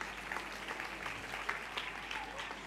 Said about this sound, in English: I request the audience to give them a big applause.